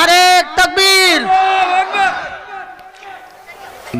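A large crowd at an Islamic religious gathering roars loudly in unison, responding to a slogan call with powerful massed shouts, followed by a ringing, fading tail of voices.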